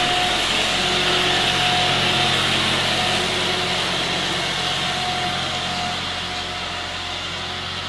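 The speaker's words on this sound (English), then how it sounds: "Hold on, there's a tractor." A tractor engine droning loudly nearby at an animal sanctuary, a constant mechanical hum with a faint whine that slowly fades as it moves off.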